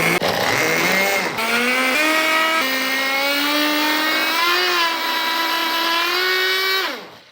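A small petrol engine fitted to a homemade gasoline-powered toothbrush runs continuously, a buzzing high-pitched two-stroke whine that rises slightly in pitch as it revs, loud and close, then cuts off abruptly at the end.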